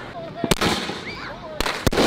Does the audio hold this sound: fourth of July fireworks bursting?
yes